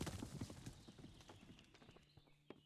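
Horse hooves clip-clop in the western survival game Above Snakes, a quick run of close hoofbeats slowing and thinning out toward the end with a few final separate steps.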